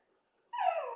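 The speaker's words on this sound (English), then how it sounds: "Can you not hear the dog?" Short single dog whine or yelp, a brief tonal cry starting halfway through after near silence, fairly faint and alone.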